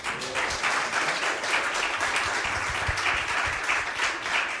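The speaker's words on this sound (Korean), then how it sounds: "박수로 환영하십시다" A church congregation at a revival service in New York claps to welcome the pastor, with a steady, moderately loud wash of applause running throughout and no speech over it.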